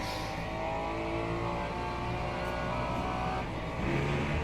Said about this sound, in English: the Ferrari sounds like a bag of nails